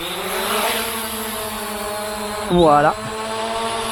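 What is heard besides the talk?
ZLL SG906 MAX drone taking off automatically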